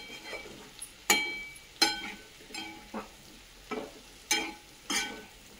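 Sweet potato slices with cardamom stirred in a sizzling pan, a soft frying hiss broken by repeated scraping strokes of a spoon, about eight close, crisp scrapes at an uneven pace.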